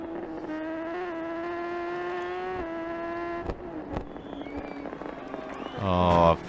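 Motorcycle engine on the TT Isle of Man course in a racing video game, holding a steady high whine, then dropping in pitch as it brakes for a turn, with a burst of revving at the end.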